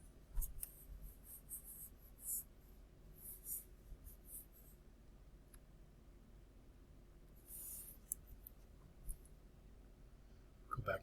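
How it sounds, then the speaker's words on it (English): Someone erases writing on a board during a trigonometry lesson: faint, intermittent rubbing and scratchy strokes with brief pauses, quiet and close. "Let me erase that for a second."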